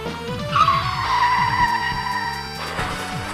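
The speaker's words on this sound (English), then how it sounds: "several police cars hit the slick, slide out of control, and crash into the guardrail" Police cars skid on an oil slick and crash into a guardrail in a chase scene, with loud tire squeals sweeping over roaring engines, a brief burst of crunching impact noise, and no voices.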